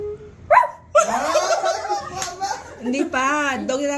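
A voice imitates a dog's bark with short yelping bursts, mixed with childlike talking and a bit of laughter nearby.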